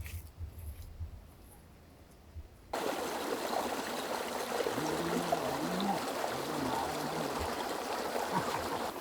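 Mountain stream at the foothills flows with a steady, soft rushing wash that swells in suddenly and continues evenly, with faint low murmurs beneath.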